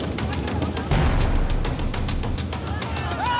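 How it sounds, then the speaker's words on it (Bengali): Bombs exploding during a clash between rival student groups at the gate of Champadanga College during union election nominations, with police targeted; a rapid series of sharp bangs and cracks rings out over constant crowd noise. "পুলিশকে লক্ষ্য করে বোমা"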